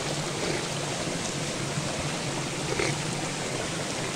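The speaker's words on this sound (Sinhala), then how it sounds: "ඉතින් ටිකක් ඉස්සරහට යනකොට මෙන්න මේ වතුර පාර හම්බුණා" Mountain stream flowing along a hiking trail to the Knuckles range in Sri Lanka, a steady soft hiss of running water, close and continuous with no talk.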